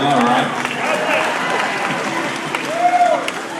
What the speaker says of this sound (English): People cheer like I just did a stunt or something